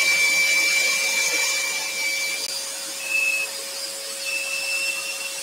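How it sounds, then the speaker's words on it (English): A dust extractor drones steadily while scroll saw woodworking goes on, a constant close whine with a sustained tone and faint higher whistles drifting in and out. "I'm just going to turn off the extractor a moment"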